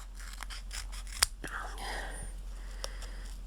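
Scissors cut out paper flower shapes for cork Christmas gift tags with a few soft, close snips and faint paper rustling, and a whisper-quiet voice can be heard at times.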